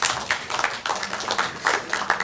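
Audience at a People Power Party caucus meeting claps after a lecture: dense, bright applause from many hands in a room, surging and easing in waves over a couple of seconds.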